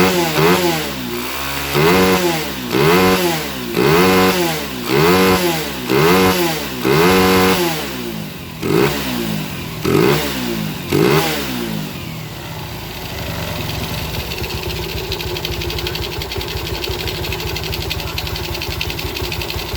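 A Yamaha motorcycle engine, its carburetor jets newly adjusted, revs in a run of about eight quick rhythmic blips, then settles into a steady, rough idle. The engine is close and loud, with no talking.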